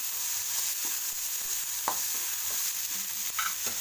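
Tomatoes sautéing with salt in a pan, a steady sizzle running throughout with occasional soft stirring taps and scrapes.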